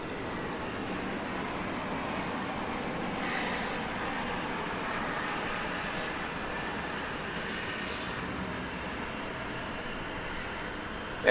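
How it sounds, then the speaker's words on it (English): An American Eagle E-Jet comes in to land at DFW Airport at night, its engines a steady, distant broadband roar that holds level throughout, with no one speaking. "It's an American Eagle E-Jet, as you can see, coming in from Monterrey, Mexico"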